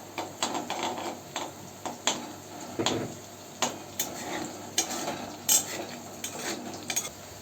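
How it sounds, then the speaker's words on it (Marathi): Chopped hot green chili being sautéed in a pan for sabudana khichdi, with clinking spoon-on-pan stirring and scraping taps over a faint background sizzle, close by and without speech. "त्यामध्ये एक तिखटवाली मिरची कापून घेतली ती परतून घेऊया"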